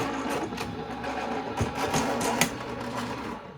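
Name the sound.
electric die cutting machine running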